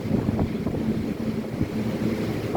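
Strong hurricane wind gusting through palm trees during Hurricane Ian, a steady roaring rush of air with microphone buffeting, continuous and loud without a break.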